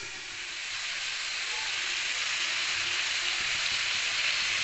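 Freshly cut potatoes hit hot oil over onions already fried until browned, giving a loud, steady sizzling hiss that swells slightly at the start and holds evenly, with no voices.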